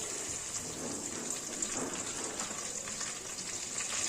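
Onions sizzling in hot oil with cumin, mustard seeds, dried red chillies and garlic for a home-style sambar, a steady, even frying hiss throughout with no talk.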